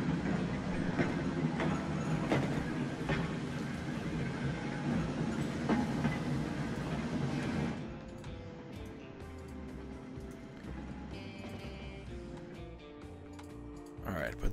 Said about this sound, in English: So here's our steam trams.